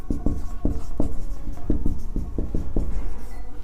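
Chalk tapping and scraping across a board during a math lecture on relations, in a series of distinct close strokes, nearly a dozen of them at an uneven rhythm, with no speech.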